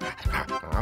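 A cartoon dog gives two quick, close barks in a kitchen scene of an animated children's show, with a short pause between them.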